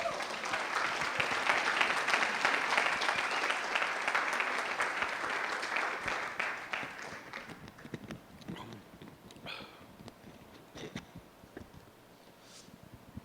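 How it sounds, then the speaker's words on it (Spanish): A church congregation bursts into strong applause for the Lord, loud dense clapping for about six seconds that thins into scattered claps and fades out. "Denle un fuerte aplauso al Señor."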